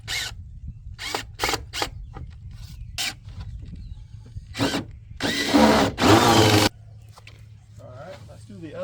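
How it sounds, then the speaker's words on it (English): A power drill drives 3-inch wood screws into a 2x4 bed frame, countersinking them in several short whirring bursts and then a longer sustained run, with quiet room noise and a voice in between. "We are using 3-inch wood screws and we are countersinking them or putting them below the surface."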